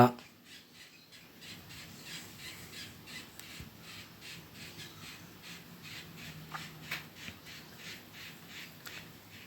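A batch of five adult jampo finches calls in a steady run of short, soft chirps, fairly faint, repeating at a quick, even rhythm for several seconds.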